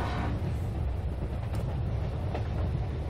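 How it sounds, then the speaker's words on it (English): Train noises played back from a vinyl record: a steady, dense rumble of a passing train with rolling wheel and carriage noise, fairly loud and continuous throughout, no voices. "it's 48 minutes of just train noises"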